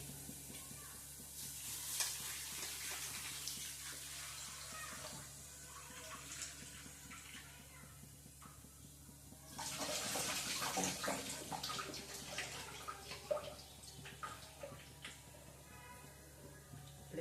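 Water sloshes and splashes in a bowl as barnyard millet is rinsed and swirled, in bursts of wet stirring and trickling.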